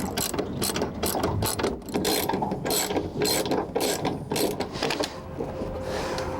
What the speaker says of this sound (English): I'm going to pry it up underneath this carriage bolt, and that's going to give me some pressure so that it won't spin.